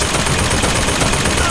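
An automated turret in the BioShock Infinite video game fires a loud, dense burst of rapid gunfire that fills the whole moment, with a voice faintly under it.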